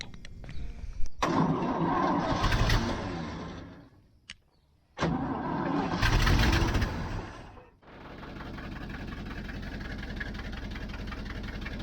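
A 1979 GMC 6000 truck, just fitted with replacement fuel lines, cranks in a long loud grinding bout, pauses briefly, cranks again, then catches and settles into a steady rumbling idle.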